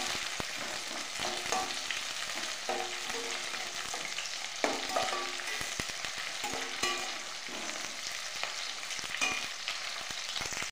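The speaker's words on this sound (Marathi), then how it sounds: "कांद्याची पात आणि लसूण पात व्यवस्थित तेलामध्ये भाजून घेते मी।" Spring onion greens and green garlic shoots frying in oil for a bhogi vegetable dish, a constant close sizzle punctuated by repeated scraping stirs of a spatula in the pan.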